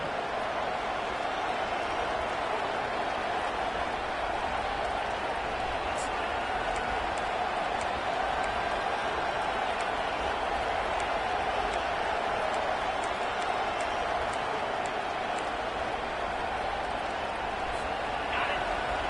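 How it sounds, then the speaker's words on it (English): A home crowd at an Alabama college football game roars on third down as the defense tries to get off the field, a dense, steady wall of cheering that holds at full strength throughout with no break. "Here comes this home crowd as the defense tries to get off the field on third down."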